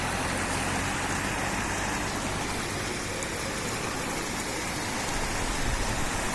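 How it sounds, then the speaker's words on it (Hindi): Heavy monsoon rain in Ajmer district, Rajasthan, a dense, constant hiss of downpour on surfaces with a low engine rumble underneath, steady and close with no talking. "बहुत ही शानदार बारिश राजस्थान के अंदर अजमेर ज़िले में।"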